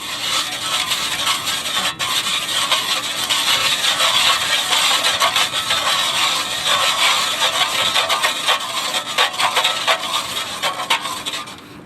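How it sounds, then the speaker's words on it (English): Dull-bladed ice fishing hand auger spun over and over without biting, its blades skittering on the ice in a steady, loud, gritty scrape that runs unbroken. "that's like 28 spins and I'm not even down an inch because the blades won't bite"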